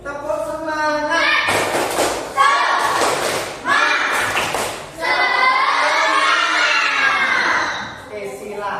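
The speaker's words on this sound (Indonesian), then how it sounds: "Sebelum itu kita tepuk semangat dulu. Tepuk semangat." A school class does the 'tepuk semangat' rhythmic clapping chant: children's voices chant together in unison, with loud, sharp group claps landing in a regular pattern, close and lively.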